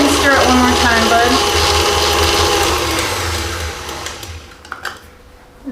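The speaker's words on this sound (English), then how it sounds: "We're going to mix this for about 5 minutes until it's light and fluffy" An electric mixer whirs through cookie dough for hot chocolate cookies with a steady, loud motor whine that gradually fades and stops partway through, leaving a few light clinks.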